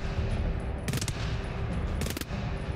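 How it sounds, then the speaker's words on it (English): Assault rifle fire in the video game GTFO: two short, sharp bursts stand out over a dense, steady background of in-game noise. "assault rifle."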